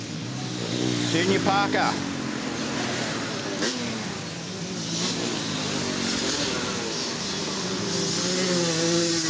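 Motocross bikes, a Yamaha and a Husqvarna, rev and race at a club championship round, their engine drone steady and mid-distance beneath near-constant commentary.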